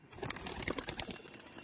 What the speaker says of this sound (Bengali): দেখুন এই হচ্ছে নর পায়রাটা